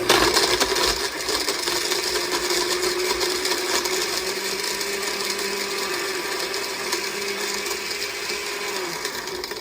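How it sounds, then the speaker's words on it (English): A blender on its ice-crush setting at low speed grinds through ice for a healthy milkshake alternative, a steady, loud broadband whirring and rattling that runs continuously without pause. "First, put it on ice crush, if you have that feature on your blender."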